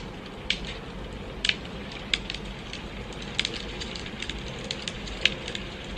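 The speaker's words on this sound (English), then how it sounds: "The one that I love is actually the fireplace sound." A fireplace sound played back from the Tide app: soft, steady crackling with sharp scattered pops and snaps over a constant low rumble, close and continuous with no voices.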